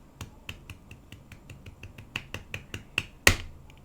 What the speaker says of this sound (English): I clap once, it's super loud.